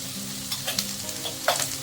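Eggplant frying in a pan with turmeric and salt, a steady close sizzle broken by a few soft stirring scrapes and clinks, with no voices.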